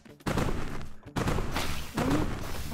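Snowball launcher gun from the video game The Crackpet Show firing single shots, a run of loud, close thumping bursts with a short pause near one second, voices faintly underneath.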